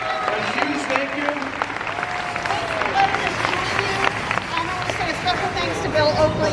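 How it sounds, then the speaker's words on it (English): At the International Pizza Expo in Las Vegas, a crowd applauds the sponsor Hobart Mixers. The clapping runs steadily under lively crowd chatter and a voice speaking over the hall's noisy hubbub. "A big round of applause for Hobart, our sponsor."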